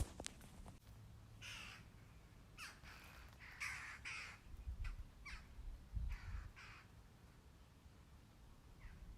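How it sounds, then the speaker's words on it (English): Repeated sharp, chattering jackdaw calls ring out in bursts, a few loud and close, others fainter, over a quiet woodland background in mid-November. "the jackdaws were making the most amazing noises"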